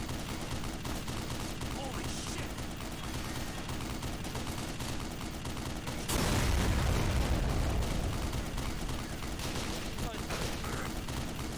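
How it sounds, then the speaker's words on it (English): Enemy gunfire in the Black Mesa video game comes as dense, sustained bursts of shots, with a louder heavy volley midway, all close and continuous. "They're shooting me through the vehicle."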